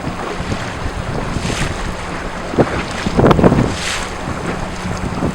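A single-handed ketch with two masts and three sails runs through a force 4 to 5 breeze. Steady wind buffets the microphone over a constant wash of water and waves along the hull, with a brief louder surge of spray near the middle.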